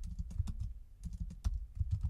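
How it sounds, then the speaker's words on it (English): Keys on a computer keyboard are typed in short, irregular bursts of soft, close clicks, with brief pauses between them. "So to go to a web page, we're going to type in G."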